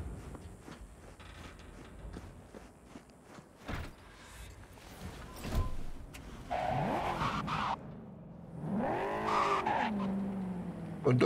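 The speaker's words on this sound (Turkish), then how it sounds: "Araba çok kayıyor." Car skidding and sliding in the video game Cyberpunk 2077, tires squealing in sustained wavering bursts over engine noise, growing louder in the second half with no talk.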